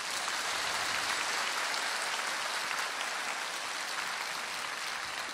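Steady clapping from a gathered group at a spiritual teaching session, dense and even throughout, with no talk over it.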